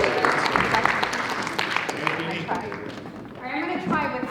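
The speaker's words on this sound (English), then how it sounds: "Big round of applause." An audience applauds a performer at a live show: a dense wash of clapping and cheering crowd noise, steady and fairly loud throughout, with voices mixed into the clapping.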